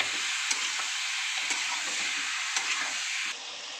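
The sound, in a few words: fish being stirred and fried in oil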